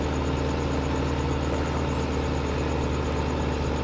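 A small tractor, roughly 100 horsepower, runs steadily while pulling an oversized mower, giving a constant close engine drone with low rumble and no pauses or talk.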